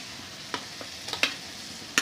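Schezwan chutney and spices sautéing in a pan, a soft steady sizzle with a few sharp scraping stirs of a spoon against the pan, close and with no talking.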